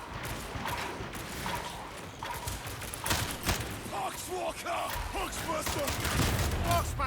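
Gunfire in the video game Warhammer 40k: Darktide, repeated bursts of shots and impacts over busy combat noise, with voices talking over parts of it.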